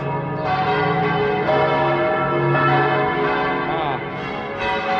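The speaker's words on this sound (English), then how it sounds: "Here we go again with the bells." Loud church bells ring continuously on an early Sunday morning in Seville, overlapping peals with a rich ringing tone that fills the air, close and sustained throughout.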